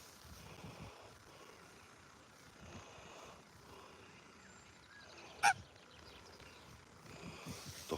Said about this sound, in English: Ducks aren't half noisy.